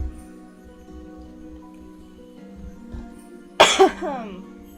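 One sharp, close cough bursts out near the end, after several seconds of quiet low hum.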